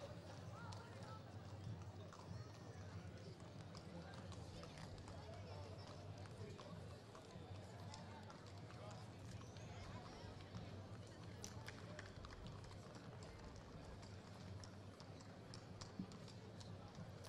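Many horses' hooves clopping on pavement during the Doudou procession at the Ducasse de Mons, a steady mass of hoofbeats blended with crowd noise and a voice talking throughout.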